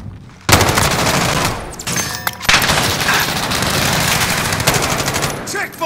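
Sustained automatic gunfire in a Modern Warfare team deathmatch video game, loud, dense rapid bursts running almost continuously with a brief pause in the middle, with a player's voice heard briefly.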